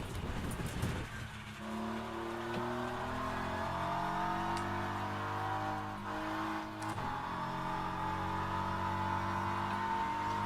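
A BMW race car in the Le Mans Ultimate racing sim revs up and accelerates, its engine tone climbing through gears with a clear upshift, loud and steady, with a brief tire squeal at the start.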